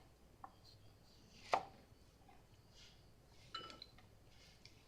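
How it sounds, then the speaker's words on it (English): A knife chops a carrot into thin julienne sticks on a cutting board, giving a few sparse, faint taps with one sharper cut, in a quiet room. "Cut the carrot into 1/8 inch slices and stack the slices and cut them evenly into 1/8 inch sticks."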